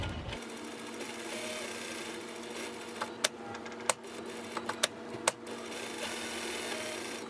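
A sewing machine runs steadily while stitching fabric in a sewing class, a continuous mechanical whir with a few sharp clicks and taps partway through, close and fairly quiet with no talking.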